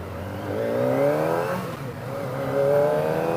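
Kawasaki Ninja ZX25R motorcycle engine revving up and down in two rising surges, close and fairly loud, with a steady idle underneath and no talking.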